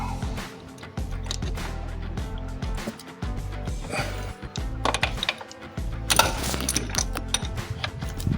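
Ratchet wrench clicking steadily while tightening a bolt on a Land Rover Discovery 2 engine during thermostat and temperature sensor work, close and busy with repeated rapid ratcheting bursts and some clanks, no voices.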